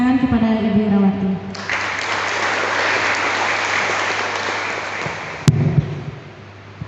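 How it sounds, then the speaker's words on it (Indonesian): Company event audience at PT Bio Inti Agrindo applauds for Ibu Irawati: a voice speaks briefly, then a steady burst of crowd clapping fills the room before a thump and a few voices near the end. "Mari sekali lagi kita beri sambutan tepuk tangan kepada Ibu Irawati"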